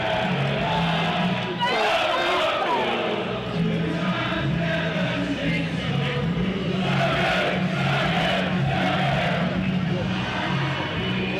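A large cricket crowd at a Sussex versus Surrey T20 match at Hove sings together loudly and continuously, a dense wash of many voices with shouts mixed in.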